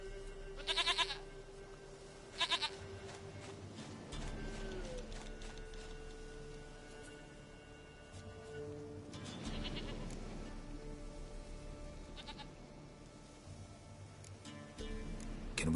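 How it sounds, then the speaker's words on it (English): A goat bleats in The Witcher 3: Wild Hunt, giving two short, loud bleats near the start and a longer bleat midway, set over a steady game ambience and music bed. "Goat of mine, dearest, sweetest goat."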